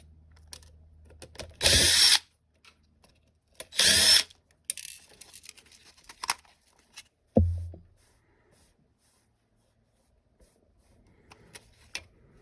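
Power drill backing screws out of a Toyota Sienna dashboard: two short loud whirring bursts close by, a brief tap, then quiet handling clicks and scrapes of parts.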